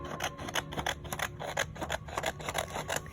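Scissors trim paper along a grid in a steady run of rapid snips and rasping cuts, close and continuous, with no talk.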